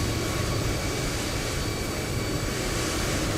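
Emirates Airbus A350 airliner taxiing past, a steady, loud engine roar that holds level throughout with no talking.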